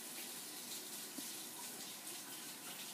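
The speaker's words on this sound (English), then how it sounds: "I'm going to start running my tap water because it takes a little while for it to get hot" Kitchen tap left running to warm up while preparing yeast dough, a steady, even broadband rush of flowing water throughout with no talk over it.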